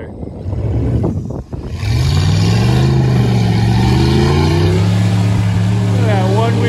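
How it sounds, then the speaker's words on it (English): A RAM 1500 pickup truck spins one wheel in the mud, its engine roaring loud and steady with rising revs and a wet, churning drone after a brief dip, close by. "Look at that one wheel peel."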